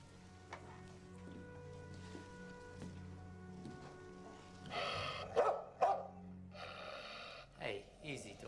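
A dog in a police apartment-search scene gives a few sharp barks and snorts near the end, after a stretch of quiet room tone with low hum, while people talk.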